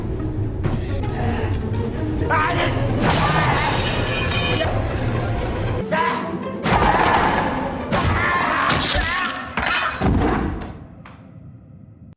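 Objects are smashed and thrown in a film scene, a series of loud crashes, thuds and clattering impacts in irregular bursts, with muffled sounds between them that fade toward the end.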